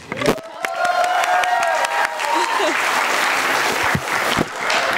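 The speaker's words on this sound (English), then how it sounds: "A big round of applause, please." Audience round of applause at a university International Mother Language Day celebration, a full, sustained burst of clapping from a crowd, loud and close, with a voice briefly heard over it early on.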